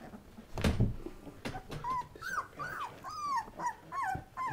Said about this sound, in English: Here's a little orange puppy.